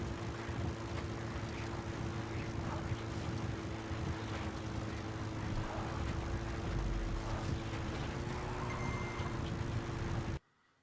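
A vehicle in the Metal Gear Solid 5 open world hums at a steady low drone with a constant engine tone, loud and unbroken for about ten seconds before cutting off abruptly.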